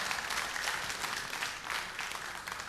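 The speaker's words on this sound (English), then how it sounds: "Some applause, please, for our winning couple, everybody." A studio audience claps steadily for a winning couple on a quiz show, a dense, even wash of applause that holds throughout without fading.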